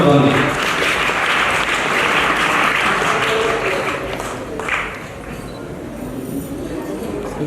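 Applause from an audience at a school's annual prize distribution function, fairly loud and sustained, dipping midway and then continuing with voices and crowd murmur mixed in.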